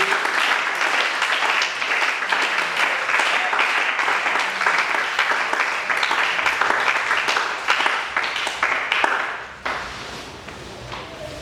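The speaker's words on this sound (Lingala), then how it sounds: "Nkoki kobeta maboko makasi mpo na lokumu na Nzambe" A church congregation claps loudly and steadily in praise of God, a dense sustained burst of many hands that fades slightly near the end.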